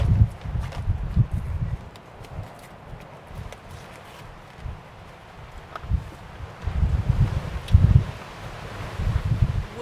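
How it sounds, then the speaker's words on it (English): Strong outdoor wind buffets the microphone in uneven rumbling gusts that swell and fade, loudest near the start and again toward the end, with faint rustling behind and no talk. "Wind is just insane."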